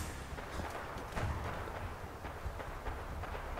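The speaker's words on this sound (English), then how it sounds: "I'm not sure where that gunfire is coming from." Distant gunfire in the video game Fallout 4, a steady run of muffled reports and booming thumps heard continuously throughout, with no talking over it.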